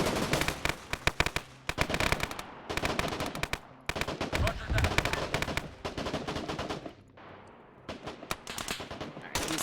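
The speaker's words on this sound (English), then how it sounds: "I can hear those gunshots" Rapid gunfire in the game TSB Finnish Liberation: loud bursts of automatic shots in quick succession, broken by brief pauses, with a short quieter lull near the end before firing resumes.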